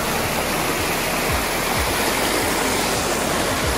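Stream of water flowing down from the hill at Ammiq Wetland in the Bekaa Valley, Lebanon, a loud, steady close rush with constant gurgling and splashing.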